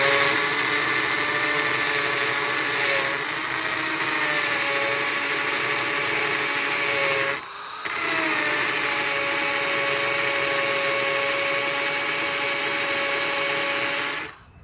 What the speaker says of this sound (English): With this drill, I made it down to about here.